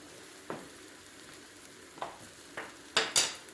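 Gözleme flatbread fries on a stovetop with a soft background sizzle, punctuated by several sharp scraping and tapping noises from handling the pan, a few spaced out and then two louder ones close together near the end.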